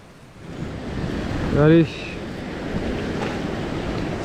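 Ocean waves break at a sea fishing spot, a steady rushing surf wash mixed with wind buffeting the microphone, with one short spoken word partway through.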